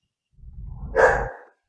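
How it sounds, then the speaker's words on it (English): A dog barks once at home, picked up by a computer microphone during an online reunion call. The single woof swells up out of a low muffled rumble and ends abruptly. "Whose dog is that? That's my dog."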